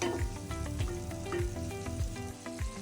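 Food fries in a pan until soft while making a spiced puffed-rice oggarane dish, a continuous close sizzle with occasional stirring scrapes, steady and moderately loud with a faint tonal hum underneath.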